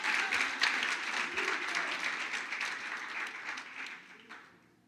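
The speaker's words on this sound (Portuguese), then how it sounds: "Vamos aplaudir Jesus, porque ele é o pai nota 10 aí" Congregation applauding during a church service, a full, continuous burst of clapping from many people that stays strong before tapering off at the end.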